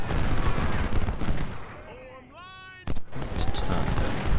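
Musket and cannon fire from the Civil War strategy game Ultimate General: Civil War, a dense rumbling barrage with a sharp blast partway through and a brief tonal game cue, loud throughout and with some talk mixed in.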